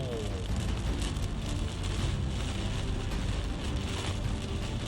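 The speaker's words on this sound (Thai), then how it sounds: "วันนี้พายุฝนมาแล้วครับ" Heavy rainstorm in Lamphun, Thailand, heard while driving: rain pours steadily, a dense, constant hiss of drops drumming on surfaces close by.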